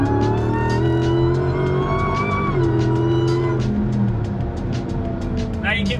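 A Hellcat-swapped Jeep Gladiator 6x6 on massive 40-inch tires accelerates hard, its engine a loud, close, sustained roar with pitch climbing slightly as it pulls, against steady wind and road noise.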